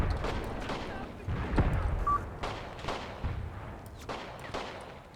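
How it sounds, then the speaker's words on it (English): Scattered gunfire during a house assault in the tactical war game Graviteam Tactics: Mius-Front, several sharp separate reports at irregular intervals over low rumble, with speech in the background. "Yeah, and somebody's shooting at them"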